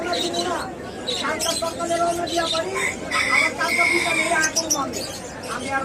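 Pigeons chirp and coo in a busy mix of calls at a pigeon market, fairly close, with a constant chatter of bird sounds throughout and no clear pauses.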